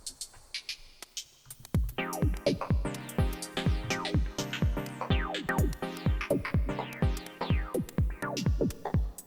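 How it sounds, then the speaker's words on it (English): A busy electronic hi-hat pattern from a Korg Electribe ESX-1 with pitch sweeping down on each hit, rapid and loud over a thumping beat, with no voices. "a demonstration of the pitch control, something I use a lot on hi-hats"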